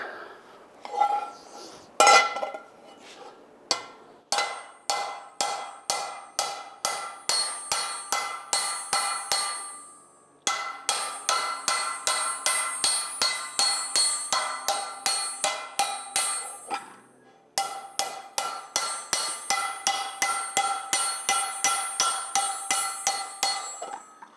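A hammer forges a carbon steel skillet on an anvil, ringing metallic blows in rapid, even bursts that pause briefly between runs, loud and close with no talking.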